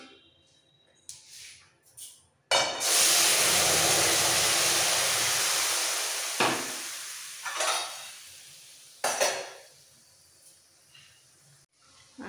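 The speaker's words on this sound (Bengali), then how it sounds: "এই ফোড়নটাকে একটু ভেজে নিতে হবে।" Spices for dal tempering hit hot oil with a loud, sustained sizzling hiss that slowly fades, followed by short bursts of frying and utensil scrapes in a home kitchen.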